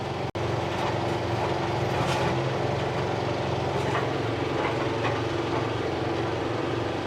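A John Deere tractor drives a brush mulcher through a big brush pile, producing a steady, heavy engine rumble with a constant grinding drone and faint rattles, with one sharp click near the start.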